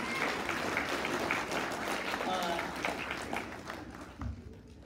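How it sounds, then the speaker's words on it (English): An audience applauds at a school red carpet awards event, a broad wash of clapping with crowd murmur and some voices mixed in, fading near the end. "Let's give a round of applause."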